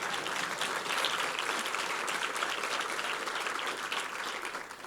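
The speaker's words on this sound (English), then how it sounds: "That's where you're supposed to clap right there." Steady applause from an audience at a school district State of the District address, a dense, even clapping that goes on throughout before tailing off slightly at the end.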